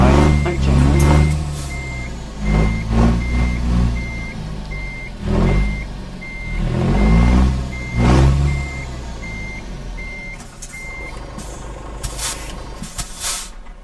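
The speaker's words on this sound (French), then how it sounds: "Il arrive un camion." An arriving truck rumbles close by with surges of engine noise and air-brake hisses, while a steady reversing beep repeats at an even pace, then stops.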